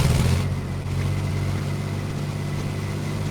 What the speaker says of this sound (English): got more of a normal engine sound to it, I guess.